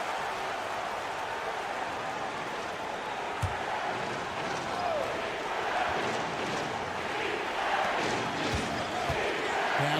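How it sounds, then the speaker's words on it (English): Crowd roar in a EuroLeague basketball arena in a video game, a steady wash of cheering with occasional ball bounces and faint voices beneath. "you gotta love hearing a crowd get this fired up"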